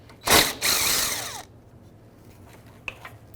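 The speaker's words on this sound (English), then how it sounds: "Remove that bolt." A 10mm socket backs out the bottom radiator bolt on a 2013-2018 Toyota RAV4, giving one loud, close burst of ratcheting about a second long, then near quiet with a faint click.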